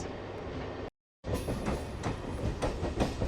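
A MEMU train on the Narsapur–Nidadavolu line rolls slowly into Tanuku station, a steady rumble with soft rhythmic clatter of wheels over rail joints, briefly cut by a short gap of silence.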